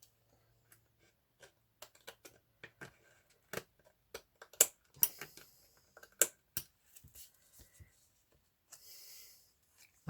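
Paper trimmed with scissors while a hinged double pocket is assembled, heard as a run of quiet, sparse snips and small ticks scattered unevenly, close and faint, with a soft rustle near the end.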